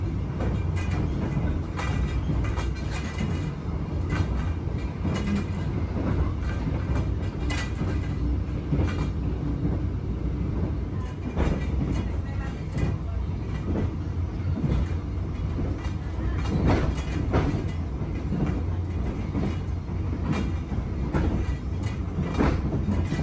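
Interior of the KA Dharmawangsa economy train running on the rails between Jakarta and Surabaya: a constant low rumble with rhythmic clickety-clack of wheels over rail joints and occasional metallic squeals, steady and close throughout.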